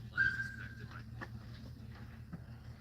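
A large dog at the ferry terminal on Salt Spring Island lets out a short, high whimper near the start, then goes quiet under low background rumble and faint outdoor noise.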